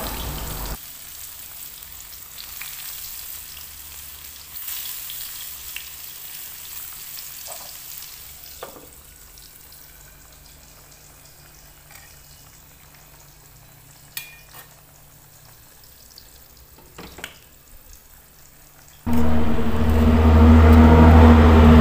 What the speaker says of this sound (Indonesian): ini giliran tempenya saya goreng